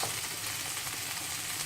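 Diced kovakkai (tindora) frying gently in a pan on low flame gives a soft, steady sizzle and crackle that holds evenly throughout, with no voices.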